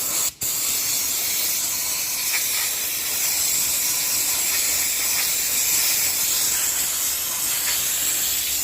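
Steady pressure-washer spray hisses loudly and continuously while a car is washed with degreasing car shampoo, with a brief break near the start and no talking.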